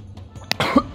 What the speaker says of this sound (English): Coughing, I swallowed something like a bug.